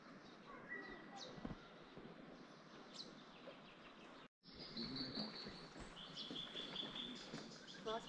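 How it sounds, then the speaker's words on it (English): Birds chirp and sing in the bush near Milford Sound, New Zealand, with bright high calls repeating throughout over a steady natural backdrop, broken by a brief moment of silence midway. "Nice birds"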